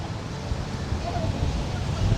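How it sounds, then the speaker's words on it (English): Strong wind blowing across Legian Beach, a steady low roar with gusty buffeting that swells slightly toward the end, loud and close. "The wind's so strong. All the chairs is falling over."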